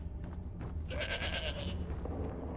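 A pet goat named Hilda bleats in the video game Skyrim: one drawn-out, wavering bleat rising over a low background hum, fairly quiet and close.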